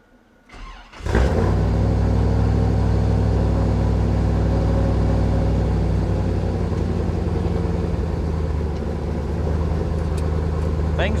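A third-generation Camaro's engine cranks and fires, then settles into a loud, steady idle close by, running evenly for the rest of the stretch with a low, continuous drone.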